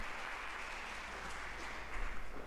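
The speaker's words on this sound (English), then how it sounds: "Clapping is good." Clapping from a crowd watching an Ariane 6 launch, a faint steady patter of many hands heard at a distance, continuous for the whole moment and swelling slightly toward the end.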